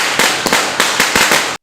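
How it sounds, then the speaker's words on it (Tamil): Diwali firecrackers burst in a rapid run of about six sharp, loud cracks over less than two seconds, each a broadband bang with a short tail, with no talking. "தீபாவளின்னா பட்டாசு இருக்கு"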